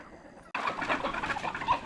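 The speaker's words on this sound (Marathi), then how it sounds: "तर आज कोंबड्यांना आपण प्रथमतः त्या बागेमध्ये घेऊन जाण्याचं काम करत आहे" Black Australorp chickens cluck and murmur together close by, a steady busy chorus starting abruptly after a short quiet moment.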